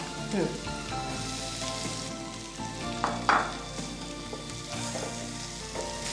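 Spring onions sauté in a pan with fried garlic, giving a soft steady sizzle with light stirring scrapes and a couple of brief louder crackles, fairly quiet and close.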